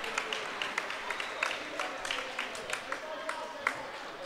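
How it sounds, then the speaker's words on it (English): Wayne City fans at a boys high school basketball game against Grayville give a round of applause, a steady spread of crowd clapping heard somewhat distantly under ongoing commentary. "the Wayne City fans give a nice round of applause to those guys on the court"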